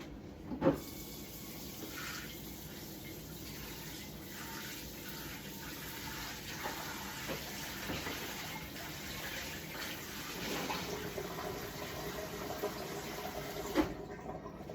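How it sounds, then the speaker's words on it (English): Tap water runs steadily over a Pampered Chef bar pan being rinsed at a kitchen sink, a continuous moderate splashing hiss with a couple of brief clunks from the pan. "So I'm gonna rinse this out."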